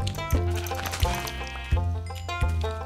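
Sheep bleating in the video game Minecraft, four drawn-out wavering bleats at an even pace, close and fairly loud, with no talk over them.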